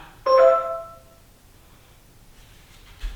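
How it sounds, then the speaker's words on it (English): A SimpliSafe security alarm base station chime rings out clearly at medium volume, a bright multi-tone ding that fades over about a second, followed by quiet. "Chime sound medium."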